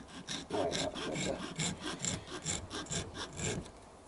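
Hand sawing with a newer blade fitted to the saw, a steady back-and-forth rasping of about a dozen quick strokes, close and fairly loud, with no talking.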